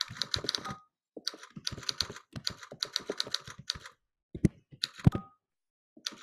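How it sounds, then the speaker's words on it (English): Computer keyboard typing comes in quick bursts of close, crisp key clicks, separated by short pauses, with a few isolated taps near the end; fairly quiet and no voices. "I was typing normally and wasn't even racing."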